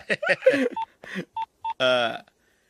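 Short beeping keypad tones as a phone number is dialed, with a voice talking before the beeps.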